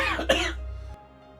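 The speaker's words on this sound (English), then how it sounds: "He coughs." A single short cough, close and fairly quiet, with a brief fading tail and no talking.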